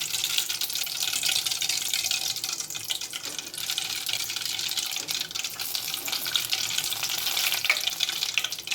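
Oil sizzling steadily in a pan while mochai bean gravy is cooked, a dense continuous hiss with small crackles, close and fairly loud throughout, no speech.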